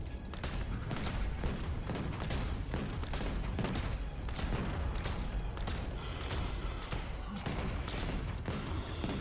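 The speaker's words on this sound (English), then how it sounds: "Fire on it! Do some damage! Shoot! Shoot it!" Dense, continuous gunfire from a Call of Duty video game, with rapid overlapping shots and bursts filling the whole stretch at steady, loud intensity, and no clear talk over it.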